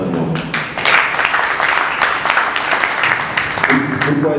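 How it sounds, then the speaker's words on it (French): Hall applause for a guest at an agriculture chamber convention signing in Saône-et-Loire, clapping rising in the first second and holding steady, with voices talking over it. "je voudrais que vous puissiez vraiment l'applaudir encore grandement"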